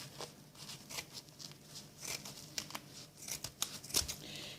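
Scissors cut through a Pampers Active Fit disposable diaper at its middle mark, giving a close, quiet run of crisp snips and crinkling rustles with a few sharper clicks near the end.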